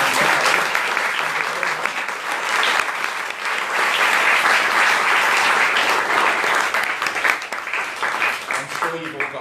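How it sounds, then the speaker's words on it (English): Audience applause at a panel conversation on diversity in screen and stage, steady dense clapping from a sizable indoor crowd lasting throughout, with a voice audible beneath it. "I think we should give a little bit of a round of applause"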